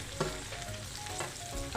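Onion and curry leaves frying in hot oil, a dense, continuous sizzle and crackle heard close up for a moment, with faint stirring and no voices.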